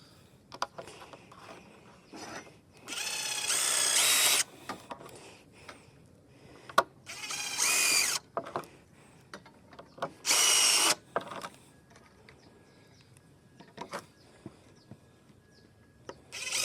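A power drill drives small screws into Trex Select composite railing brackets, sounding as three loud whirring bursts of one to two seconds each against a quiet background with faint clicks and handling noise.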